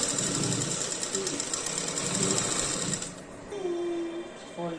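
Sewing machine stitching a folded pattu langa, its rapid mechanical chatter running steadily before stopping, with a voice speaking and a brief whine near the end.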